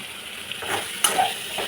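A ground paste of onion, ginger and garlic hits hot oil in a pan for chicken curry, giving a brief close sizzle with a few light utensil clinks and no voices.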